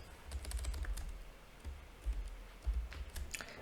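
Keys clatter on a computer keyboard as a file name for a groundwater potential zones map is typed, several quick bursts of light clicks close by with short pauses, no talking.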